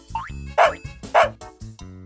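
A dog gives two loud woof barks, spaced about half a second apart, amid cartoonish boing-like effects and a voice in a children's animal vocabulary lesson.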